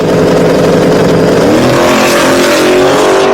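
A Mustang and a Corvette launch side by side at a drag strip. Engines roar loud and close, with pitch rising steadily as both cars accelerate hard off the line.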